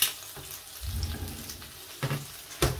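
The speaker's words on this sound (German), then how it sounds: "Und den braten wir jetzt schön von allen Seiten einmal so ein bisschen an." Breaded feta cheese frying in a pan, a soft steady sizzle with a few louder crackling bursts as the pieces are turned, close and alone with no talk.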